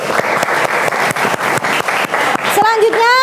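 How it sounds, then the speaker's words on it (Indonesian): A classroom group claps together for group 2 in a regular rhythmic beat, the claps close and loud, and near the end a voice cuts in over the clapping. "Tepuk tangan buat kelompok 2."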